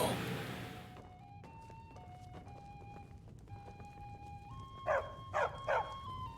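A dog in a fantasy role-playing video game yips and whimpers in three quick bursts near the end, over a sustained musical drone with soft background sounds.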